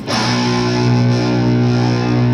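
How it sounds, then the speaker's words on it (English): An electric guitar rings through stacked distortion and overdrive effects, one loud sustained chord with rich, dense harmonics that holds steady and barely fades, with no talking. "dropping the level of the second distortion signal, which is an overdrive"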